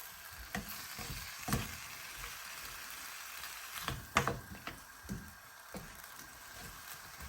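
Beef and bitter melon (ampalaya) sizzling in a hot pan while being stirred, a continuous frying hiss broken by irregular scraping and clacking of a utensil against the pan, close and fairly quiet.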